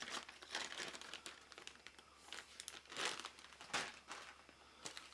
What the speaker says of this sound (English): be careful when you're pulling stuff out of these Ziploc baggies